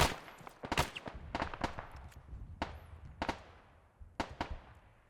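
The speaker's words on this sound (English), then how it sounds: "I pressed the wrong button. I threw a frag." Frag grenade blast in Arma 3, part of a rapid series of sharp gunfire-like cracks and booms spread across several seconds of intense in-game combat.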